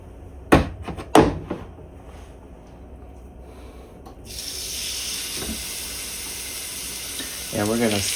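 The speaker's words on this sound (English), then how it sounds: "let's go ahead and warm up our pan and put these boys on" Ribs hit a hot pan and start searing, with a couple of sharp thuds as they are placed, then a steady broadband sizzle that holds to the end beneath brief bits of a voice.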